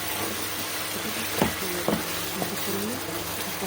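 A red spice paste with coriander powder, other ground spices and salt fried and stirred in a pan, a steady hiss of frying with a few sharp spoon scrapes and taps, close and moderately loud, no talk.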